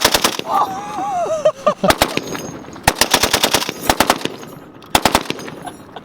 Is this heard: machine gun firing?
yes